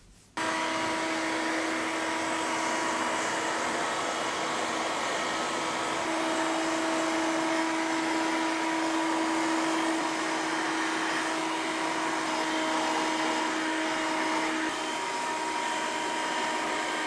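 A hair dryer blows steadily after a haircut, a loud continuous whoosh with a faint whine that holds for the whole stretch, alone with no talking over it.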